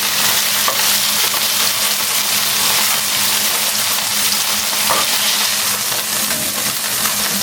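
Beef morcon fries in a pan with a loud, steady sizzle that stays constant throughout, close up, with no talking over it.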